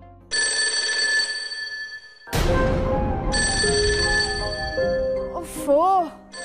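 A telephone ringtone plays loud and close in a domestic scene, bright repeating tones broken by a brief jumble of sound partway through, then the melody resumes.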